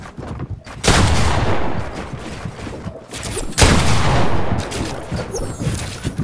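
Loud bursts of gunfire from the Fortnite video game fill the mix, with two heavy volleys of rapid shots. Each volley rings on with a dense, sustained rattle, up close and with no speech over it.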